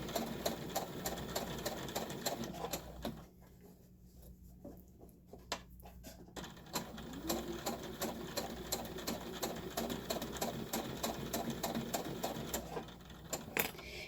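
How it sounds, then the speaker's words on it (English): A sewing machine stitches fabric around curves for a hanging storage pod, its rapid needle chatter running steadily and close up, briefly pausing as the fabric is turned and guided, then starting again. "I'm kind of guiding that fabric a little bit around those bends"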